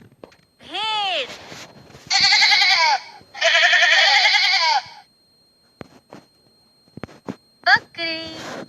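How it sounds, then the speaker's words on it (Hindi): A sheep bleats in a series of loud, close, quavering cries, several long ones followed by shorter calls after a quiet gap. "भेड़"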